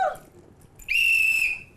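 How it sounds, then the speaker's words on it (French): A single sharp, high whistle rises suddenly after a moment of quiet and holds steady for about half a second before fading, clear and close with only a faint trace of voice before it. "il faut siffler, il faut siffler"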